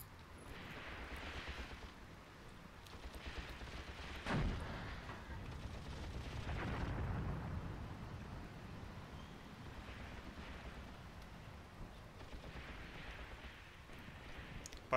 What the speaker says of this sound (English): But my Matilda firing the machine gun at it.